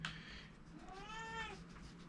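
A pet cat meows once, a drawn-out, rising and falling call lasting about a second, close and moderately loud against a faint low background hum.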